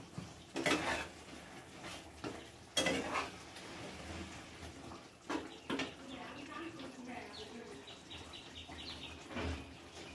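Mughlai chicken ingredients with fried onion paste are mixed in a pan, giving several loud scraping and clanking strokes of a spoon against metal over a faint sizzle, nearby, with soft speech-like sounds in the background.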